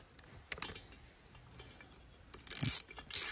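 A ratchet clicks in short bursts while head bolts on a BT-100 bike engine are tightened down, with faint metallic ticks first and then louder, sharper ratcheting near the end.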